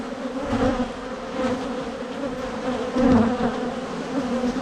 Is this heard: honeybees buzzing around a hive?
yes